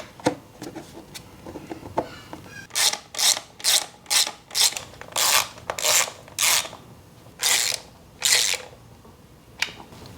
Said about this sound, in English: Reinstall your sprocket cover.